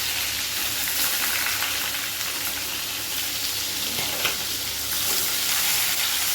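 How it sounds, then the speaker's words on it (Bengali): Chopped onion goes into hot oil with bay leaf, black cumin and green chilli in a pan, giving a loud, steady sizzle with faint stirring scrapes and no talking. "এখন আমি পেঁয়াজ কুচি দিয়ে দেবো।"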